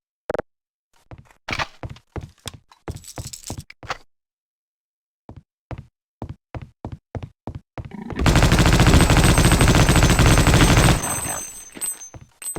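Weapon fire in the shooter game Half-Life: Opposing Force: rapid bursts of sharp gunshots with short pauses, then a long dense stretch of continuous loud automatic fire before it tapers off, no voices.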